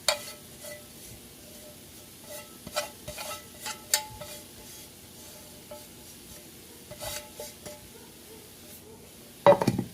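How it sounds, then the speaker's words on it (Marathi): Chopped banana flower stirred into a frying pan with softened tomato for a sabji, giving scattered scraping and stirring scuffs over a low steady sizzle, with a louder clatter at the end. "आता आपण हे जे बारीक हे करून घेतलेलं, पिळून घेतलेलं ते केळफूल घालूया."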